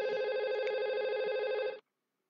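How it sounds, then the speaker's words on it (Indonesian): An IP phone rings during a voice VLAN call test, a loud, steady electronic ring tone lasting under two seconds before stopping abruptly, with no talk. "Sekarang kita coba IP phone 2 menelpon IP phone 1 dengan nomor 1111."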